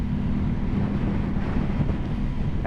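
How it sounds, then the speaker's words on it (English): Wind buffets the microphone with a steady, heavy low rumble throughout, with no voices. "You're definitely hearing at least some of the wind right now."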